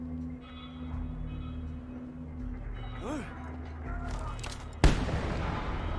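A single sharp, loud explosion goes off from a shot in the Mad Max video game, a sudden broadband burst followed by a rumbling tail over game ambience and engine hum.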